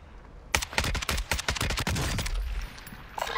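Rapid bursts of automatic gunfire in a battle royale video game, loud and dense, firing in quick clustered volleys with no talk over it.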